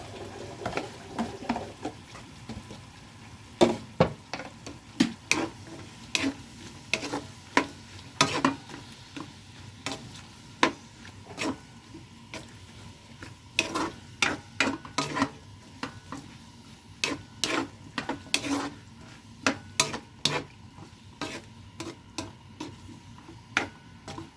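Mixed vegetables stir-fried in a pan in a home kitchen, with irregular sharp spatula clacks and scrapes over a faint, low sizzle. There is no talking.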